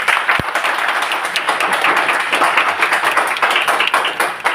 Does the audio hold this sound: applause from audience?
yes